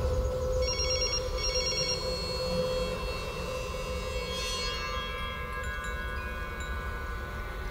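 A telephone rings unanswered in a tense film scene: two short bursts of electronic trilling ring out early, then a steady low hum carries on with no one picking up.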